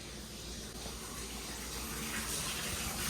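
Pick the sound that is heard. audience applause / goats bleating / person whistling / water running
water running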